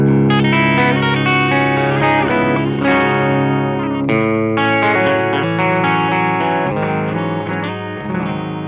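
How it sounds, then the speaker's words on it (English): Electric guitar through a Purrer Mini overdrive pedal, loud sustained chords with a thick, gritty driven tone, strummed continuously with a few chord changes and fading slightly at the end; no talking. "and now the Purrer Mini."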